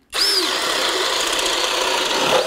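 A small cordless drill bores a 1-inch hole at low speed, a steady strained whine and grinding of the bit cutting through material that starts abruptly and runs continuously and close up, with no talk.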